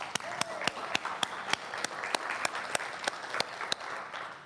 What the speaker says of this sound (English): Well, let's give Rebecca a round of applause, and Katie, her mom, as well